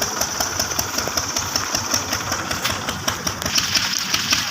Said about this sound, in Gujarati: જો આયો ટ્રેક્ટર